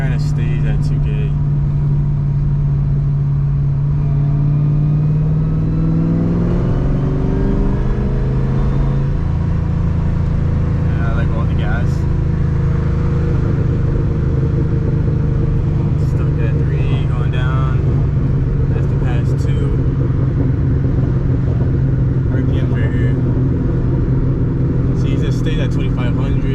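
A car engine with a newly fitted 78 mm BBK throttle body hangs at about 2000 rpm in third and second gear, a loud, close, steady drone with a shift in pitch partway through, carried under ongoing road noise.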